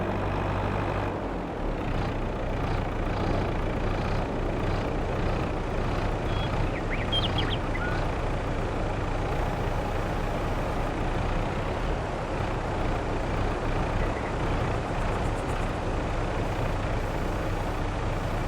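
A farm vehicle in Farming Simulator 22 drives back to the wood chipper, its engine a steady, loud drone that holds at an even level throughout, with no talking.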